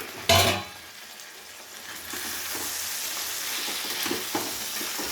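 Chicken frying in a pan, a sharp knock at the start, then a steady close sizzle with light stirring scrapes running throughout.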